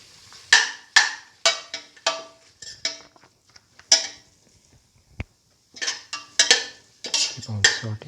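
A spatula scrapes and taps against a pan while fenugreek leaves and rice are sautéed, making intermittent bursts of metallic clinks and scrapes separated by short pauses.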